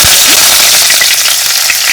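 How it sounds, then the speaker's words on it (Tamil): Cloves and star anise fry in hot oil in a clay pot for chicken gravy, giving a loud, dense, continuous crackling sizzle that holds steady throughout with no voices. "பொரிஞ்சிட்டுருக்கு."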